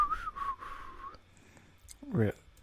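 A person whistles a wavering, sustained tune for about a second, followed by a brief voice and a short vocal sound.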